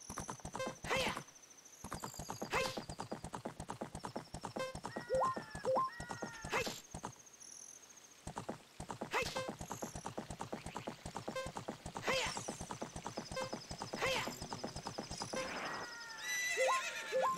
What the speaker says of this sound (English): All right, get off the horse.